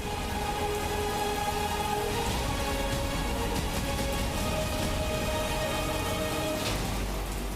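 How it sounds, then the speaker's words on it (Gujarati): Heavy monsoon downpour over Khambhalia, Karen and Ghargadi in Gujarat, a dense, steady roar of rain pelting surfaces with no letup, close and loud throughout, with no voices. "ખંભાળિયા, કરેણ અને ઘારગડીમાં ધોધમાર વરસાદ આવ્યો છે"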